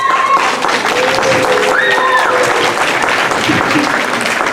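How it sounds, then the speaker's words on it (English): Audience and beginner band members at a school end-of-year concert give the flute section steady, full applause that continues throughout, with faint voices mixed in. "The other flutes are cheering you on as well."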